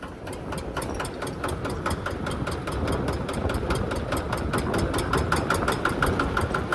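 Kubota engine powering a corn sheller machine runs steadily and loudly on its own, with a rapid regular mechanical chatter that builds slightly as the throttle opens.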